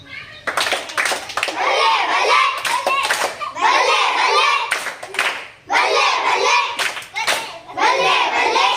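Children clap together in repeated rhythmic bursts, loud and close, with young voices chanting or calling between and over the claps during a cooperative classroom game.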